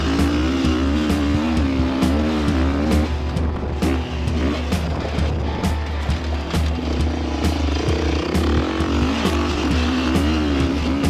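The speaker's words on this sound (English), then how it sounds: "Now Grabbo tackles the same loop on his favourite 4-stroke, the Beta RR430." A Beta RR430 four-stroke enduro motorcycle running hard around a dirt loop, its engine droning loud and steady throughout, with the pitch rising and falling as the rider works the throttle through gear changes.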